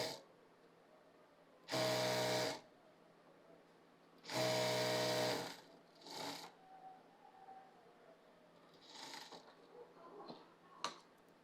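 A sewing machine runs in two quick bursts while stitching the seams of a Farsi salwar. Each motor whir is close and lasts about a second, followed by quieter fabric handling and clicks.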